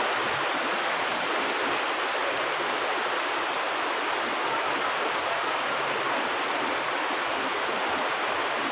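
Waterfall dropping from a great height at Katiki Falls near Araku, a loud continuous broadband rush of crashing water, close and steady with no break.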